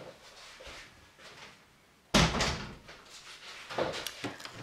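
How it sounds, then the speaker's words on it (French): Indoor door being closed, a sudden sliding and clunking close followed by a few softer rattles and shuffles. "je vais fermer la porte"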